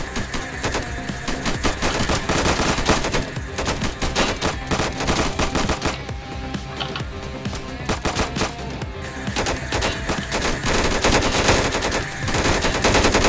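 Rapid, continuous gunfire in a Minecraft version of the PayDay 2 video game, dense automatic bursts crackling loudly with hardly a pause throughout.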